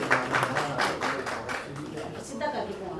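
Scattered clapping from a small audience at an inauguration ceremony and New Year celebration greets an honored guest, rhythmic and moderately close, mixed with voices talking over it.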